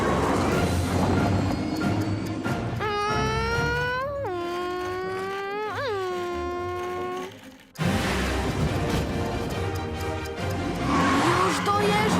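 A cartoon race car revs and whines through sharp highway turns in a Matchbox animation, its rising and falling engine pitches sweeping up repeatedly, under music and effects, with a brief dropout before the racing noise resumes.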